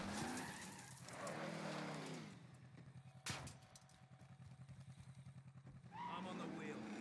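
Car engine revving and tires skidding in the battle royale shooter Call of Duty Warzone, a near whining motor with squeals and a sharp bang partway, a voice speaking briefly over it.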